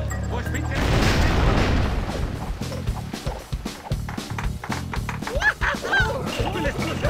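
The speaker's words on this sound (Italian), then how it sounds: "L'esplosione è stata grandiosa! C'è stato un boom!" A booming explosion in a LEGO City video game sounds over game music, followed by a run of thumping clattering impacts and a voice speaking.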